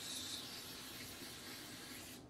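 Spray dye can hissing steadily onto a knitted sock blank, adding purple, a continuous close, fairly loud spray for the whole stretch before it cuts off at the end.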